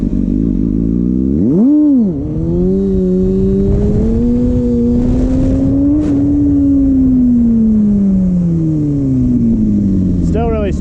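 A Kawasaki Ninja ZX6R engine revs up sharply, then holds a steady, rising and falling drone at low RPM while the bike is balanced on one wheel, loud and close throughout.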